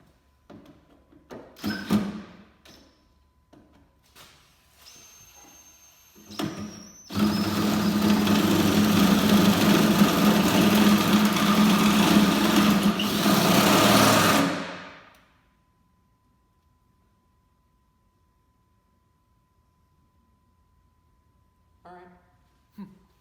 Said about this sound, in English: After searching for and finding the right drill bit, it is now time to drill this hole